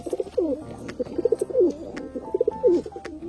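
A paired Kalshira pigeon and desi pigeon kept at home coo repeatedly, their rolling, throaty calls rising and falling in quick, close, fairly loud phrases.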